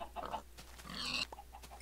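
Minecraft pig grunts in a single-player game, a few short close oinks in quick succession, fairly quiet and with no talking.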